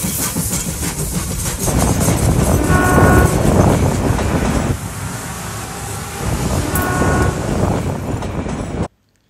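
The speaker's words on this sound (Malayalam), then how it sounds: "ഒരിക്കലും മറക്കാനാവാത്ത അതിമനോഹരമായ ദൃശ്യങ്ങൾ സമ്മാനിച്ച ഒരു നാരോ ഗേജ് ട്രെയിൻ യാത്രയായിരുന്നു അത്." Narrow gauge heritage train on the Shimla mountain line, running loud and close with steady rumbling wheel clatter and engine noise, a horn-like tone partway through, ending abruptly.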